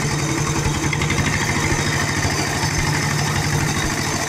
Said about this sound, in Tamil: கார் இன்ஜின்லயே மிஷினையும் ஓட்டியிருக்காப்புல